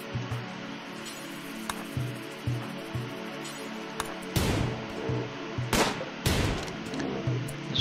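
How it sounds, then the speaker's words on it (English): Video game gunfire aimed at a rhino: sharp shots in irregular bursts, with a few loud close blasts standing out over steady background noise and ticking, and no talking. "Stop shooting that one."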